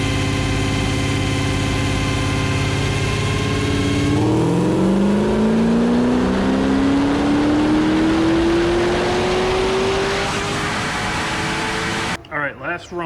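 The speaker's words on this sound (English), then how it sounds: "All right, last run with the cutout closed, going through a straight 3-inch 644." An LSA supercharged V8 in a third-generation car revs on a dyno with the exhaust cutout closed, holding a steady idle before sweeping upward in one long rising pull for several seconds, then cutting off abruptly.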